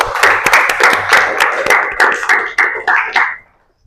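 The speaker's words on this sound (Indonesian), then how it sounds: "Tepuk tangan" Classroom of students clapping together after a pupil answers, a dense burst of many hands with sharp claps standing out, lasting about three seconds before stopping abruptly.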